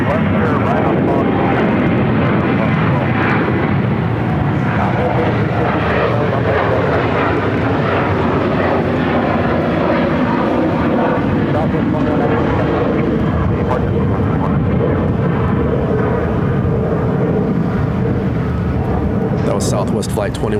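A Southwest Airlines jet taxis at Phoenix airport, its engines a loud continuous roar that swells and shifts in pitch over twenty seconds, with faint voices beneath it.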